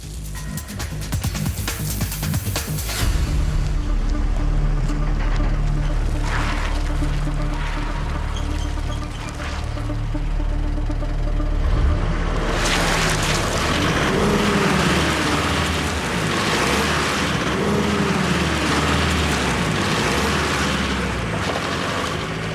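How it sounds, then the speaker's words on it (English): Homemade model train on a deliberately slippery track, its driven wheels spinning without grip: a loud, continuous mechanical whirring and rumble that surges and shifts, with broadband grinding noise throughout and no talk. "no matter how much power I use, no matter how much oomph I give it, and I'm giving it plenty, my wheels on my train just can't get enough grip"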